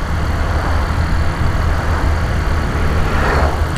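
A Honda Titan 150 motorcycle engine with a mechanical noise runs steadily at idle in a workshop, a close, continuous low rumble with no talking.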